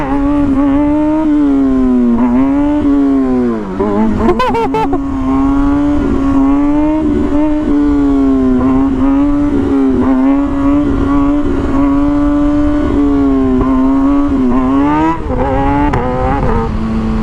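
A motorcycle engine revs hard and close throughout during wheelies, a loud sustained drone whose pitch rises and falls with throttle, briefly dipping around a gear change before climbing again.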